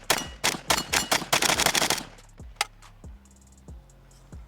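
A Pioneer Arms AK 5.56 Sporter rifle fires a fast string of close, loud shots outdoors at steel targets, then slower single shots with ringing echoes and pauses between them.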